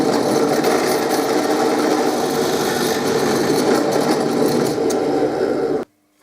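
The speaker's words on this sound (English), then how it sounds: "what I'm doing now is I'm counter boring the 1/4 inch holes here to take" Router or drill bit counterboring quarter-inch tuner bushing holes in a book-matched walnut archtop guitar headstock, a steady loud machining whine with cutting noise that runs continuously for about six seconds, then stops abruptly.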